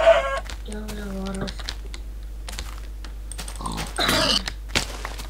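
A few short clucks from a Minecraft chicken, game-like and crisp, alongside rapid keyboard typing and clicking close by.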